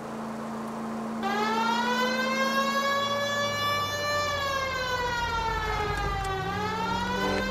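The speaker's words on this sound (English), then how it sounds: "The siren might keep people out of your way, Phelps." Police car siren in the LA Noire video game, a loud wailing tone rising and falling steadily over several seconds after a brief low engine hum, heard alone without talk.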